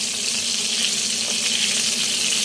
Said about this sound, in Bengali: সাথে একটু পটলও ভেজে নিলাম নিচ্ছি আর কি এখনও ভাজা তো শেষ হয়নি